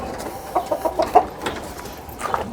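Several chickens clucking in short, irregular bursts close by, with faint background noise between the calls.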